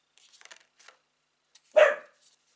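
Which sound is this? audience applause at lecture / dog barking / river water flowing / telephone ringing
dog barking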